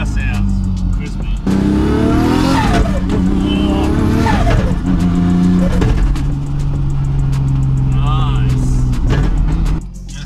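A Ford AU Falcon engine revs and roars continuously with rising and falling pitch, loud and close, with people talking over it.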